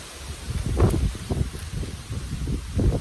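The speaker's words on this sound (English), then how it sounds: "Woo, windy today." Gusty outdoor wind buffeting close against the microphone, a steady low rumble that swells and eases in uneven gusts over a few seconds, with no voices.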